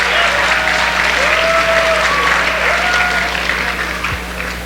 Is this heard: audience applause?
yes